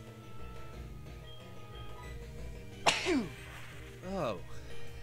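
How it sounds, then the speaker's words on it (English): A single sharp sneeze bursts out close to the microphone, followed a moment later by a shorter throaty exhale, over a quiet game soundtrack. "I got another sneeze coming."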